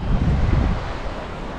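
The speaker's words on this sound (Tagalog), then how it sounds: "Sayang, ang lakas ng hangin dito." Strong wind at a beach in Batangas City buffets the microphone in a loud low rumble that eases slightly after a moment, over a brief stretch.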